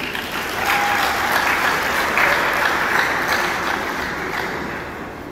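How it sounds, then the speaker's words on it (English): An audience at a university inaugural lecture in Oyo applauds together, a dense sustained clapping that swells slightly and then eases off over several seconds, with no speech. "Can we clap for the Yoruba race?"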